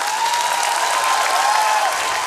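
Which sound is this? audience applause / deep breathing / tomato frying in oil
audience applause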